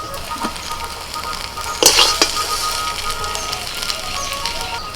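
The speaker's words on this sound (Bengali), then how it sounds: "আবারও কড়াইতে আমি অল্প করে সর্ষের তেল দিয়ে দিয়েছি এবার দিয়ে দিচ্ছি এক মুঠো পেঁয়াজ কুচি" Chopped onion dropped into hot mustard oil in a wok, a soft steady sizzle with a brighter burst of crackle and stirring scrapes partway through, close and fairly loud with no talking.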